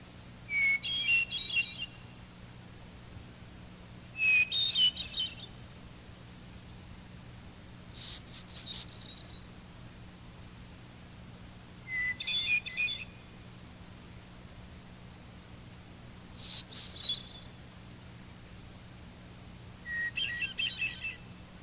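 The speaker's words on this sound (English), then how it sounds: "The hermit thrush's song is another beautiful vocalization." A hermit thrush sings six separate flute-like phrases spaced a few seconds apart. Each one opens on a clear held note and then breaks into a fluttering run, heard faintly over a low steady hum with no voices.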